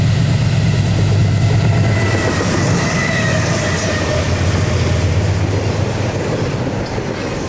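A Conrail westbound intermodal freight train, TV-203, rumbles past close by with a steady, loud roar of wheels and cars throughout.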